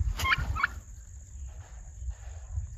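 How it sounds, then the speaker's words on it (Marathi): A turkey at a village bird shed gives a short, loud rattling gobble near the start, followed by quieter background with faint distant bird sounds. "ही आमची टर्की"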